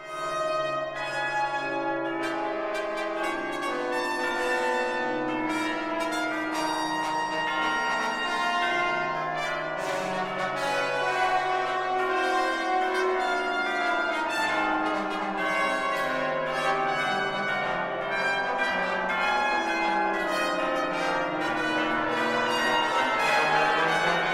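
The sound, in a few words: church bells with trumpet and trombone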